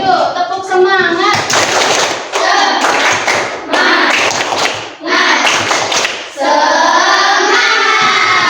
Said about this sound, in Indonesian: Semangat dulu yuk, tepuk semangat